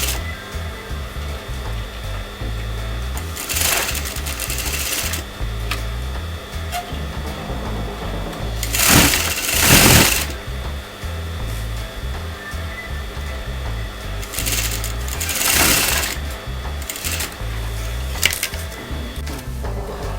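A sewing machine stitching a kameez neckline, a steady mechanical hum and rattle running throughout, broken by several louder swelling bursts of noise, with no talking.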